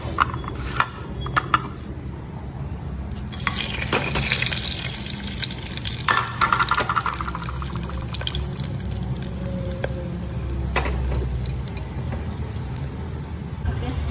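Masala frying in hot oil inside a cooker for pulao, a continuous crackling sizzle with scattered stirring knocks and clinks, while a voice speaks intermittently nearby.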